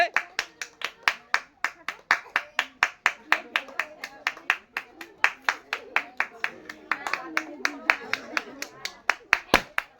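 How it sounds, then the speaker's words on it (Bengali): Audience clapping loudly at a women's water balloon popping game: a steady, rhythmic run of sharp, close claps lasting the whole stretch, with voices faintly underneath. "হাততালি হবে জোরে"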